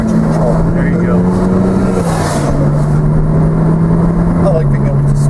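Porsche 987.2 Spyder PDK Turbo engine droning steadily and loud from inside the cabin, with a faint tire scrub as traction control is off; a person talks over it throughout.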